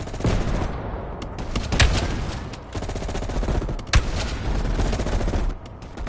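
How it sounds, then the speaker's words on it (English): Dense, continuous gunfire in Call of Duty Cold War, a sustained roar of battle with sharp cracks of individual shots standing out above the steady barrage. "You readied your sniper rifle to assist."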